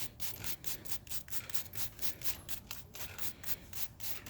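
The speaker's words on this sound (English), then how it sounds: "you can use just a soft bristle brush or something like that and try and go through it" A soft bristle brush scrubs back and forth across a K&N air filter in rapid rhythmic strokes, a faint, close, scratchy swishing that repeats steadily.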